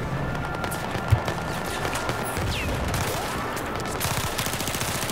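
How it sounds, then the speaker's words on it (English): Rapid, continuous gunfire crackles through a Battlefield 4 firefight, mid-distance and steady, with a few sharper blasts that could be grenade explosions and a brief whistling streak passing overhead. "Whoa, that's a lot of grenades."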